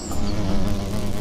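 Bees buzz steadily around flowers, a dense close drone with no talk.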